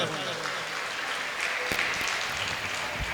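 Crowd applause at a regional school alumni meet for Sachin Mohite, a steady dense clapping wash that holds for the whole stretch, with a few sharper claps and some voices mixed in.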